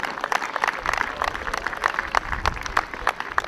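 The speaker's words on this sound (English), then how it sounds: "Big round of applause for those softball girls" Outdoor crowd at a Little League baseball and softball opening day applauds the softball girls, a fairly sparse scatter of individual hand claps in uneven bursts, moderately close, with light crowd murmur beneath.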